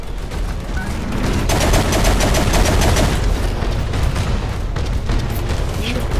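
Dense, sustained gunfire and booming blasts fill the scene in the war game Angels Fall First, rapid overlapping shots with heavy low rumble, loud and continuous throughout.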